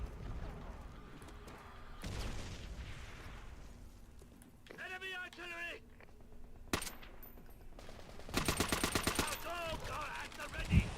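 Bomb explosions and gunfire in old-school Call of Duty multiplayer: several sharp broadband blasts and bursts of shots over a low in-game rumble, with a few louder cracks clustered near the end.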